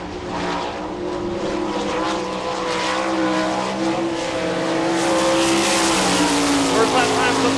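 A World of Outlaws sprint car on a qualifying lap at Rossburg, Ohio, its loud engine howling and rising in pitch as it speeds past, with a voice talking over it.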